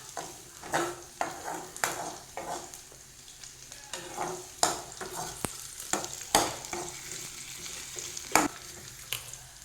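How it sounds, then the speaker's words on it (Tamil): Ingredients for a peanut gravy sauté in a pan, with a steady sizzle under repeated scraping stirs that come as irregular sharp strokes. The sound is close, with no talk. "வதக்கணும்"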